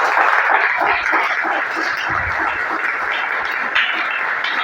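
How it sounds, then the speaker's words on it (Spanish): A church congregation breaks into applause during a sermon, a full, steady roll of many hands clapping together, close and continuous, with faint scattered voices and cries mixed underneath. "Yo no sé cuánto quieren darle un aplauso al Señor."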